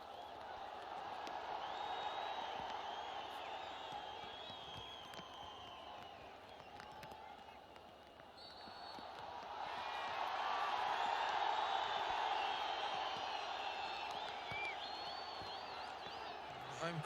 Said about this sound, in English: The home crowd now just really baying for their home team to push forward.